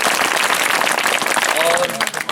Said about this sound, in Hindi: एक बार आपको ताली बजाना है।